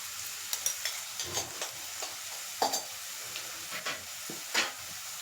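Potato pieces fry softly in a pan with a low, quiet sizzle, broken by occasional light taps and scrapes of a stirring spoon.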